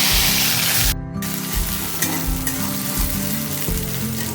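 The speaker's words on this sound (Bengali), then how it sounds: "ভাজা ভাজা করে দেবো পেঁয়াজটাকে" Chopped onion fries in hot oil with black cumin seeds for a pomfret fish curry, crackling and sizzling loudly and close up. A spatula stirs and scrapes the pan, and a short pause comes near the start.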